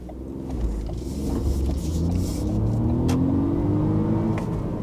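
A 2018 Ford Focus ST Line with the 1.0-litre EcoBoost 140 engine revs up steadily toward its limiter, the rising engine note clear and continuous from inside the car, with no talking.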